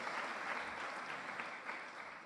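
Sustained audience applause at a public conference event on housing, a dense steady wash of clapping from a seated crowd filling the hall throughout, with no speech over it.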